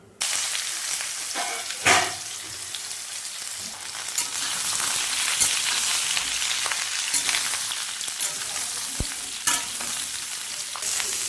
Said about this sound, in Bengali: ডাঁটা আর আলুটা আমি একটু ভেজে নেব হালকা করে।